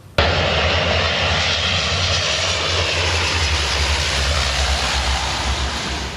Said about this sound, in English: Canada Air firefighting planes have been deployed to help tackle a raging wildfire near Paris.